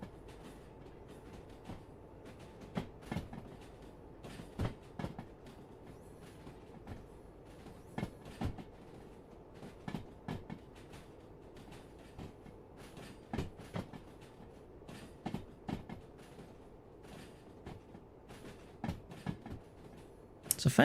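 A large freight train rolls on rails in the Derail Valley game, a low steady rumble with irregular clicks and clanks of wheels over joints, fairly quiet throughout.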